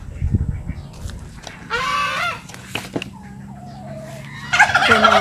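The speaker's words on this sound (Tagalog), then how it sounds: "yung mga pabo, naririnig na po ba?" Turkeys on a farm gobbling in several bursts, with rough rattling calls and other fowl sounds in between, fairly close and loud, with some background voices and movement around them.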